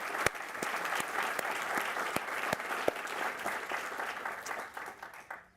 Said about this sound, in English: I would actually like to start with a huge round of applause for everyone that was involved in organising this event.